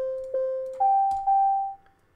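Four clean electronic beep tones from a Windows API beep call, a lower pitch played twice and then a slightly higher pitch played twice, each note ringing and fading, with no talking.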